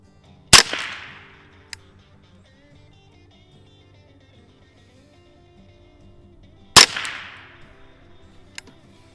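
Two sharp rifle cracks from a Ruger 10/22 firing Eley ammunition at a 50-yard target, each loud and close with a short ringing tail, spaced several seconds apart, and a faint distant tick after each.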